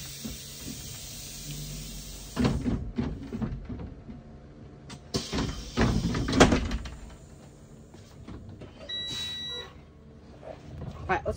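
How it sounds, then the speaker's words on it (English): Bus doors swinging open and shut, loud mechanical thumps and pneumatic hisses in two main bursts, with a voice talking between them and a brief electronic beep near the end. "Alright, let's do the doors."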